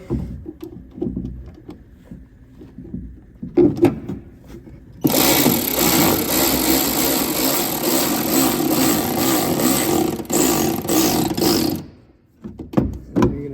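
Power tool tightening a bolt with a fender washer while installing Ark splash guards on a 2022+ third-generation Toyota Tundra: a sustained loud whirring buzz lasting several seconds, framed by softer handling clicks and knocks.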